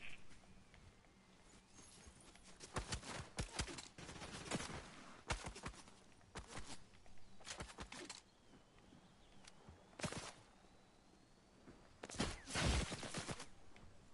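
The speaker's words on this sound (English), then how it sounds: "Oh, they shooting from up there." Scattered gunfire in the Fortnite video game: irregular bursts and single shots at moderate distance, with a louder cluster near the end, over a low steady background hum and no talking.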